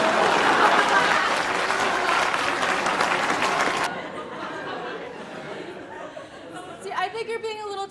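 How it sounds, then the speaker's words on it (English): Audience applause fills the first half as a dense, loud clapping wash, then cuts off abruptly, leaving a quieter room with murmuring and chuckles and a voice speaking near the end. "Please clap."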